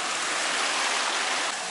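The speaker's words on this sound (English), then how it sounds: "So it's the coconut steamer." Steady rushing hiss of water steaming inside a coconut steamer set over an open fire, an even, continuous broadband noise close by with no voices.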